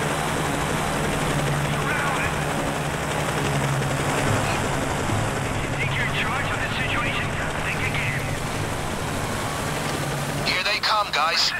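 Helicopter from the video game Payday 2 droning steadily overhead through the whole stretch, a continuous rotor and engine rumble mixed with other game noise, with brief sharp bursts near the end.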